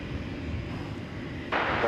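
A Qantas airliner on runway 18 Left at DFW Airport, near the north end for takeoff, gives a steady broad jet rumble that grows louder and brighter partway through, with a thin engine whine rising over the roar.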